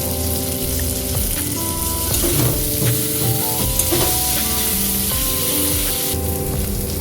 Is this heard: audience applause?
no